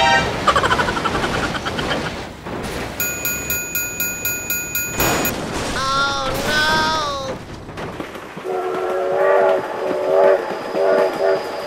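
A train in the BeamNG.drive video game thunders past with a rapid clatter of wheels over rail joints and several long blasts of its horn. Someone shouts over the noise.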